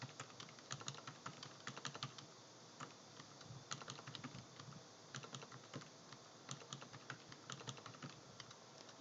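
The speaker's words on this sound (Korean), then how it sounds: "F2키 셀 편집 단축키 누르면 돼요" Computer keyboard keys pressed while editing cells in an Excel spreadsheet, a steady run of close, quiet clicky taps in irregular bursts, with no voices.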